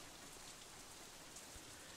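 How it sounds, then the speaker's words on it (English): Heavy rain pours in the visual novel Katawa Shoujo, a steady dense hiss that stays loud and unbroken throughout, with no voices over it. "The rest of my voice is completely drowned out by an even heavier burst of rain."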